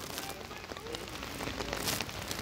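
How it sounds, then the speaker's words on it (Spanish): Cold rain falls steadily during an outdoor football match, a continuous hiss of drops on surfaces with scattered faint crowd or field noise underneath. "Un día muy lluvioso, la lluvia muy fría."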